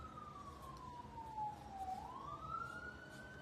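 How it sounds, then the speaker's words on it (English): An ambulance siren wails at a distance behind faint background hiss, its tone sliding slowly down and then back up in one long sweep, with no one talking. "Sorry for the ambulance sound in the background."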